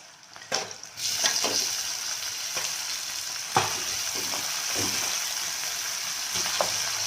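Mutton liver with tomato sizzles and fries in a pan, a steady crackling hiss broken by intermittent scrapes and stirring clatters, close and fairly loud with no talk.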